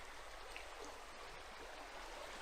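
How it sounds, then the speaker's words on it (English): A clear creek flows beside the Buice Falls hiking trail, a faint, steady rushing murmur of water with no voices. "I'm walking off the trail for a second just to show the creek here."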